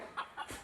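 A chicken clucks nearby in a few short, rhythmic calls, fairly faint, with no talk over it.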